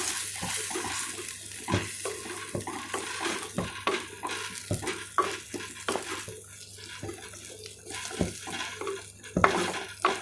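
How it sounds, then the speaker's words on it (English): A spoon scrapes and knocks around a clay pot of mutton curry in repeated, irregular strokes, with wet bubbling and sizzling between the hits. "Now we can just stir it."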